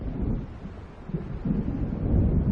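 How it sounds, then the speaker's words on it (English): Low, rolling rumble of distant thunder from a storm approaching across the sea in the video game Alan Wake, swelling steadily and mixed with wind noise, with no voices. "It seems there's a storm coming."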